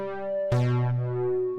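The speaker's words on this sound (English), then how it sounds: "So the triangle wave is going higher in frequency as we go down the wavetable." Wavetable synth tone built from square and triangle waveforms, a sustained buzzy note that shifts abruptly in timbre midway, bright harmonics sweeping and settling, clean and alone.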